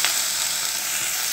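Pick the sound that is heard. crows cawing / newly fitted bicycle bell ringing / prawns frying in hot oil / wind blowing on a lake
prawns frying in hot oil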